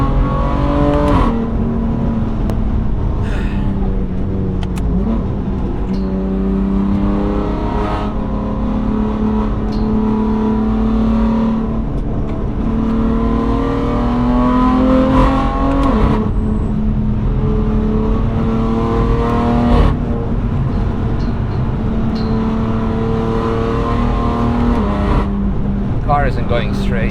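A 650hp BMW M3 engine drones loudly and continuously on the Nürburgring, pitch rising and falling through shifts and throttle changes, heard from inside the car without a break.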